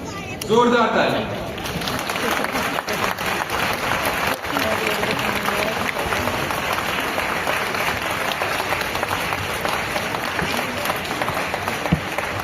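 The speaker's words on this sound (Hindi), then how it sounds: "जोरदार ताली।" Loud, sustained applause from a crowd at the World Book Fair 2025 in New Delhi, steady clapping filling about twelve seconds without letup.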